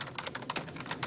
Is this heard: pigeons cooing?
no